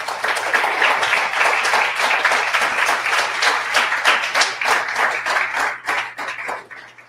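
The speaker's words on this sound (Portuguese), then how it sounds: "Dê um aplauso a Jesus." A church congregation claps for Jesus during a worship service, a fast, sharp run of claps that stays busy and fairly loud throughout before thinning slightly at the end.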